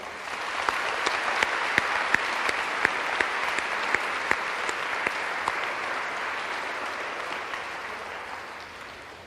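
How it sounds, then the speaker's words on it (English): Audience at a West High School event applauds steadily, a fairly distant wash of clapping with a few sharp individual claps standing out, gradually fading toward the end. "I'd like to give him a round of applause, please."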